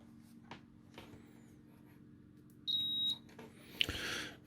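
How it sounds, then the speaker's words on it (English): A multimeter in continuity mode sounds one steady electronic beep lasting about half a second, clear and close against a quiet room hum. It happens during a kit build of an SL-1603 RGB LED audio spectrum level display. "So get my multimeter, continuity test."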